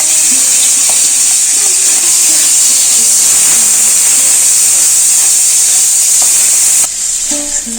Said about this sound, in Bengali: এই চিংড়ি মাছটা একটু নুন আর হলুদ দিয়ে ভেজে নেবো